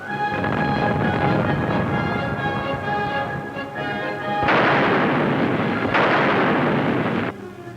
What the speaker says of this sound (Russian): Слышите взрывы? Это строят Артатакойское водохранилище